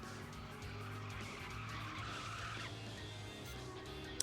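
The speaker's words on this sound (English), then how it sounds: "Here comes the fake Corvette C4 with his engine swapped V8." A V8-swapped Corvette C4 in the racing video game Tokyo Xtreme Racer roars steadily with tire squeal and skidding over a constant engine drone, ending with a sharp click.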